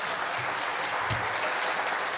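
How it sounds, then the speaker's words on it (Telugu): Steady applause from an audience at a mock assembly session in Telangana, a dense continuous patter of many hands clapping together with no talk over it. "గట్టిగా చప్పట్లు కొడితే ఆయన ఆయస్సు పెరిగిపోతుందండి."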